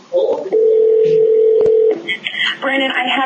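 Telephone keypad tones for a prank call to a bird store: a short beep, then one long steady tone lasting over a second, followed by a burst of higher tones with faint voices nearby.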